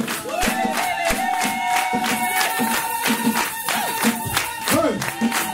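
A church congregation cheers and shouts in acclamation of Jesus, a loud, dense crowd roar with clapping and rhythmic calls over sustained musical tones, close and continuous.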